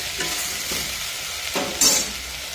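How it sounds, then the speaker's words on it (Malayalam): Potato curry with tomato, green chilli and salt is stirred and sautéed in a pan, a steady close sizzle with a few louder scraping strokes of the spoon. "ഇളക്കി കൊടുക്കാം ഇതെല്ലാം കൂടെ ചേർന്ന് ഒന്ന് വഴന്ന് വരക്കാം"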